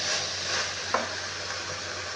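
Cabbage cooked with a fish head is stirred in a pan over a continuous sizzle, with one brief scrape of the utensil partway through and no talking.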